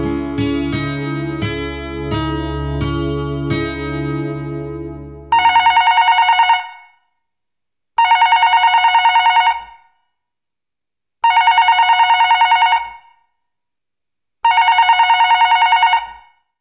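A telephone call being placed: a few seconds of keypad dialing tones, then four evenly spaced loud ring bursts separated by silent pauses, clear and close.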